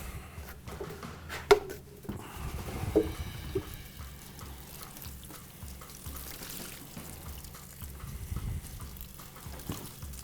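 Water poured into a dry worm farm bin of cardboard bedding, a quiet trickling and splashing with faint stirring and rustling, close by and without talk.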